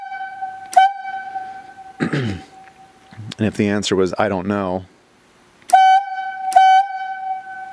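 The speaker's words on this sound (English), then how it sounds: "If I asked the yarder engineer a question and the answer was yes, it'd be one whistle." A logging talkie tooter sounds whistle signals to a yarder engineer: a long, steady electronic tone, then someone talks, then two further sharp tones close together, loud and near.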